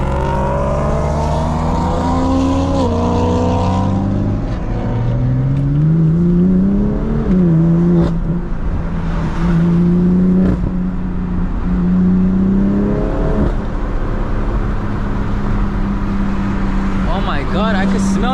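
Nearby cars accelerate hard at night beside an F82 BMW M4, engines climbing through rising, wavering revs and shifting for nearly twenty seconds, loud and close, with voices mixed in.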